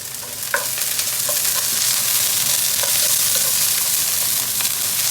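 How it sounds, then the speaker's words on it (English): Steady, loud sizzling of shallots, broccoli and green beans frying in a pan, a continuous hiss with a few faint clinks and stirring sounds. "Shallots are starting to sizzle, which is fab."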